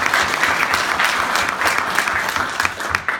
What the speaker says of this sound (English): let's have a round of applause for Coach Bedell.